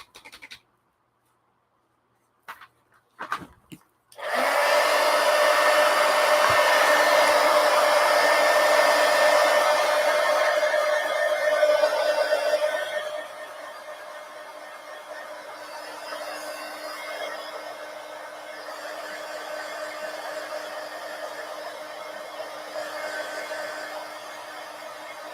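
A hair dryer blows loud and steady up close to dry acrylic paint on a coloring page, starting abruptly after a few handling knocks, then easing to a lower, even whir for the remainder.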